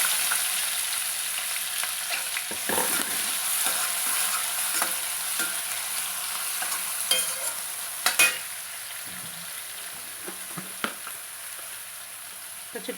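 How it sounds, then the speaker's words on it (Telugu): Onions and dried red chilies fry steadily in a pan, a continuous sizzle with occasional stirring scrapes close by, no talking. "చిటికెడు ఉప్పు ఉల్లిపాయ త్వరగా వేగడానికి"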